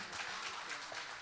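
Audience applause at a Hindi-Urdu mushaira greeting a comic poet on stage, a brief burst of steady clapping from a crowd, moderately loud and diffuse with no break.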